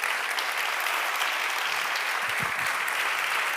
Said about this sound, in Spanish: vamos a dar un fuerte aplauso a Luis Gutiérrez